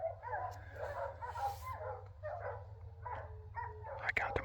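Hog hunting dogs penned in a field bark and yip excitedly in a continuous chorus at moderate distance, with someone talking over them throughout.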